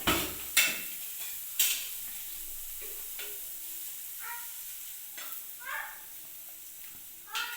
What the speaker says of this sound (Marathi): सांडा भाजून घेतला त्यात कांदा टाकू